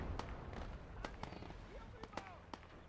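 Tank cannon shots in the WWII video game Gates of Hell: Ostfront, fought in PvP, crack out as several short, sharp bangs at irregular intervals amid busy battlefield noise and chatter.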